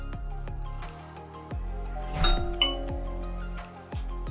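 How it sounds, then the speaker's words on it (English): A Ring doorbell chime sounds through a 4th generation Amazon Echo indoors: a series of clear, ringing electronic tones repeating at a steady pace, with a brighter two-note ding-dong in the middle, fairly close and alone. "the next time someone presses the doorbell, your Echo will alert you"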